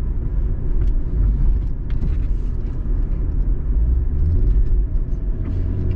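A BMW E36 with a debaffled airbox accelerates hard in third gear, its engine a steady, loud, close rumble that holds throughout with no voices over it.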